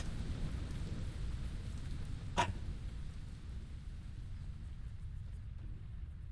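Thunderstorm ambience from a horror video game set in a cold attic: steady rain hiss and low rumbling throughout, with one sharp thunder crack partway through and no talking.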